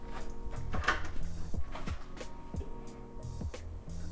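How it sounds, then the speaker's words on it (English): A Level Lock+ smart lock unlocks a closed door, its small motor whirring in a string of quick mechanical clicks and ratchety pulses at close range. "Now unlock your door."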